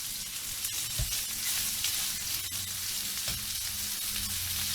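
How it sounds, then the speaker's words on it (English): Beef pieces for stew sizzle and fry steadily in a hot pan, a dense continuous crackle with a few soft stirring knocks, no voices. "just try to get as much brown on the pieces of meat as you can."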